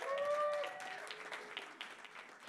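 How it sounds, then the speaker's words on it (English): Audience at a pub talk event cheering and applauding for a 40th birthday celebration, a dense wash of clapping and voices that stays steady, with a whistle-like tone early on. "I would love to see a little bit more cheering for Ben's or for EDCO's 40th birthday."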